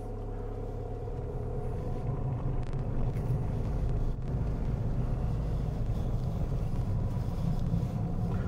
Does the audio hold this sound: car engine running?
yes